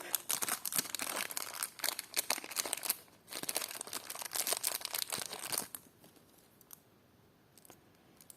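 Plastic packaging crinkles and rustles while a parcel of vintage clip-on earrings is unpacked, in close, dense bursts of crackling that continue for several seconds before trailing off into fainter, sparse rustles.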